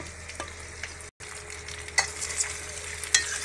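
Macaroni stirred in a pan over a gentle sizzle, with a few scraping strokes of the spoon and one brief gap, heard close up and with no voices.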